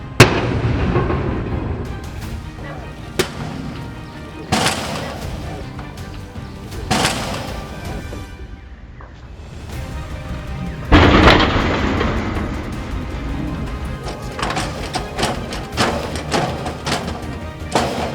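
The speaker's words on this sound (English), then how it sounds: "3 tough, strong and persistent men aim to break through with a crowbar and heavy-duty hammer" Three men bang a crowbar and heavy-duty hammer repeatedly against a steel roller shutter door in a security test, loud sharp impacts coming in irregular bursts with clattering and rattling between them.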